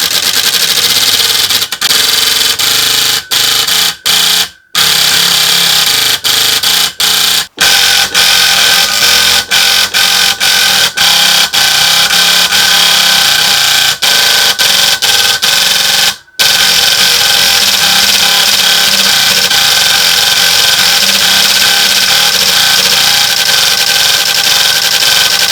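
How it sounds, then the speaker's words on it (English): Uniselector electromechanical synthesizer guitar with solenoids clicking metal on metal, a loud, dense, continuous mechanical chatter with sharp ticks and brief gaps, close and steady throughout. "the sound from the solenoids clicking, like metal hitting metal, is so noisy"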